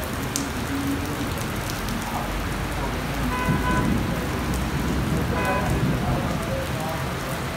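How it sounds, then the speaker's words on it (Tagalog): Heavy rain pours down in the UAE on New Year, a dense steady patter on surfaces filling the scene evenly, with faint distant vehicle sounds and murmurs beneath the downpour. "So, happy ang mga tao kasi after long time, ngayon lang umulan ulit."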